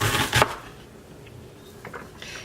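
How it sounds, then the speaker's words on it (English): A knife mincing onion on a cutting board, a quick burst of close, loud chopping taps at the start, then quiet with a few faint scattered knocks. "Do you see how I'm getting these nice, perfect little minced bits that are just exactly the right size?"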